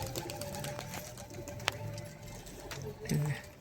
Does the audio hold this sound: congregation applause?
no